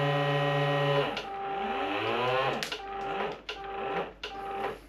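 Vacuum packer sealing a bag of fresh sea-fishing bait, a steady pump drone with harmonics that shifts pitch as the air is drawn out, then a few short clicks and hisses toward the end.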